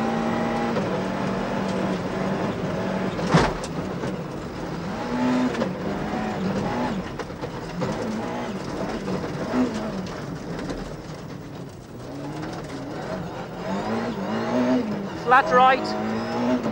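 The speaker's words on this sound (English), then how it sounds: "a quick run in his Escort" Ford Escort RS Cosworth Group A rally car at speed on a stage, its engine droning steadily with rising and falling pitch through gear changes, heard from inside the car under a co-driver calling pace notes.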